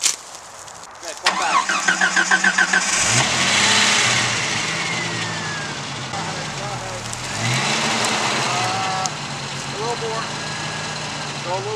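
Vehicle engine starting and revving while dragging a rare Mazda trailer out by its frame on a chain, with loud rises and falls of the motor close by and people talking over it.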